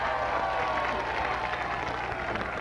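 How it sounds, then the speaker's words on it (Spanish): Audience applause at a Spanish-language contest show, a dense steady wash of many hands clapping that stays loud and even for the whole stretch, with some crowd noise mixed in. "Un aplauso claro."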